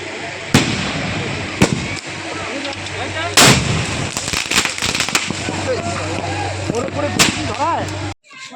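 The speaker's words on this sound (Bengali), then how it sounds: "বরযাত্রী এসছে বরযাত্রীর সমস্ত বাজি ফাটছে" Fireworks bursting at a wedding procession, a string of sharp loud bangs and crackling blasts at irregular intervals over crowd noise and voices, with a low steady drone underneath.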